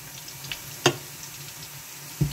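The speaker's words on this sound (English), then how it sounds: "we are going to add our grated tomatoes" Grated tomatoes hit hot oil in a pan for a chicken stew. A soft, continuous sizzle runs throughout, with a few sharp pops and spits rising above it.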